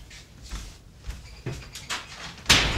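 A door shut with a sharp slam near the end, after several softer knocks and bumps of movement in a room, with no talk over it.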